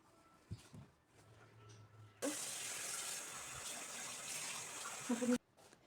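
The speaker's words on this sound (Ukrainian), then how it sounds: "І заливаємо водою." Water is poured into a pan over ground meat with black pepper and tomato paste, running in a steady, loud rush for about three seconds, then cutting off abruptly; faint kitchen clatter before it.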